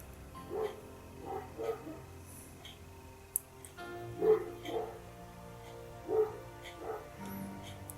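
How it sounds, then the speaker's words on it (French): A dog barks repeatedly indoors, several spaced yips and barks at moderate distance, with a person talking quietly now and then. "J'ai mon chien qui fait encore des siennes, hein, comme d'habitude."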